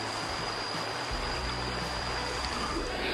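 A river flows steadily close by in the countryside, a continuous broadband rush of water that stays fairly loud and even, with no voices over it.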